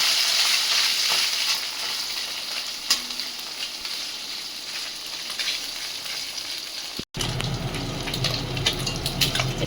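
Fish coated in flour frying in a kadai, a steady close sizzle and crackle that briefly cuts out, then resumes with a deeper bubbling hiss.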